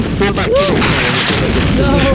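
A grenade blast in a multiplayer shooter game lands as a loud booming burst amid chaotic battle noise, with players talking over the din throughout.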